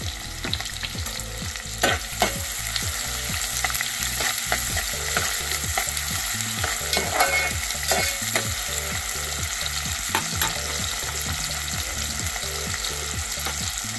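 Onion frying in hot oil with a constant sizzle, punctuated by quick, regular scraping strokes of a spoon stirring the pan.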